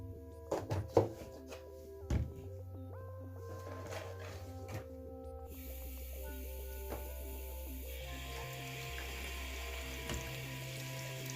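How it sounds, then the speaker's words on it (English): Water runs from a tap to fill a bath for a foster pig, a soft continuous rush under a few clanks and knocks near the start, fairly quiet and close. "I want this water to be just right for him."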